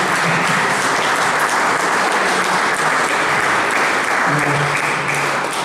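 Steady, dense applause from a large audience at a book presentation, loud and close, holding evenly for several seconds with faint voices underneath.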